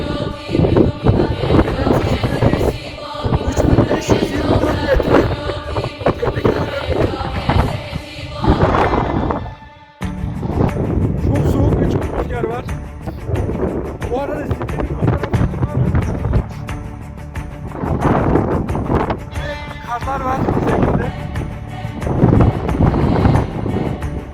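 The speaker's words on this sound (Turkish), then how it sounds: "Rüzgar olmazsa çok daha iyi olacaktı ama" Strong wind on a mountain summit buffets the microphone continuously, a loud roaring rush with gusts rising and falling throughout.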